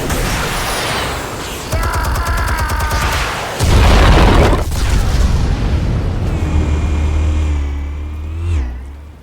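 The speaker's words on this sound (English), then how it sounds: "Explosives armed. Fire when ready." Explosives detonate in a Batman video game, a loud booming blast followed by rumbling low-end aftermath and mechanical game noise, with tonal game sounds layered over the top.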